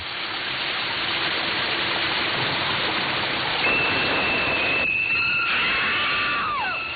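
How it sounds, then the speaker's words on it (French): Shower water runs in a steady hiss through the bathroom scene of the film Psycho, and near the end a high piercing scream and shrill screeching strings rise over the spray. "Jusqu'au jour où vous décidez de prendre une douche."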